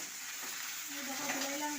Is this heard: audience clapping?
no